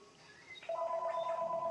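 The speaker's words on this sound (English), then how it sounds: "of course the phone's gonna go off right when I'm trying to stream" An in-game phone in Star Wars: Knights of the Old Republic on the original Xbox goes off with a steady electronic two-tone trill, starting abruptly and holding loud and continuous after a quieter bed of game ambience.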